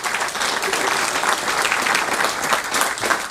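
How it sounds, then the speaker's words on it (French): An audience applauds warmly after a talk on Belgium and the assassination of Rwagasore in Burundi. Clapping is sustained and fairly close, filling the room evenly for a few seconds with no one speaking. "ça mérite un applaudissement énorme pour le travail qui a été fait"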